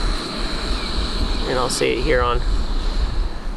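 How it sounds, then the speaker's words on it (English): A steady, airy rush of wind through the tops of pine trees fills the whole stretch, with someone speaking briefly over it midway. "the sound of wind whistling through the tops of these pine trees"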